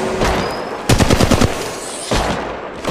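Automatic gunfire in the Apex Legends Mobile video game, a loud rapid burst of shots lasting about half a second, then a shorter burst near the end over steady game ambience.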